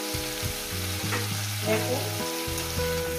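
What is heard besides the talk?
cauliflower frying in a pan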